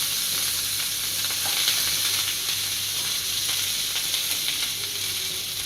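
Dry chilies and finely chopped curry leaves tempering in hot oil for black channa sundal, a continuous bright sizzle and hiss running steadily throughout, close and without speech.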